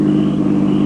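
In a radio drama scene on a dark road, a car drives toward the listeners, heard as a loud, steady low engine rumble over a brief moment.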